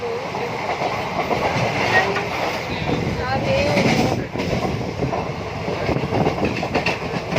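A passenger train rolls along the rails, a loud steady rumble close by with rhythmic clicking from the wheels and occasional faint squeals, and voices mixed into the noise.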